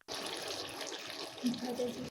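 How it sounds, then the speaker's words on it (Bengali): A glass of hot water is poured into simmering duck curry, making a short, continuous splashing pour up close that settles into a lighter trickle and bubbling at the end. "এখন সেদ্ধ হওয়ার জন্য এক গ্লাস গরম পানি দিয়ে দিচ্ছি"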